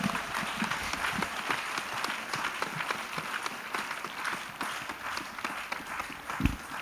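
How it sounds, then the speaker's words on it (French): A church congregation at an evangelical gathering gives sustained applause to Jesus Christ, dense overlapping clapping from a crowd with occasional heavier thumps, at moderate distance. "Clap offering to Jesus Christ."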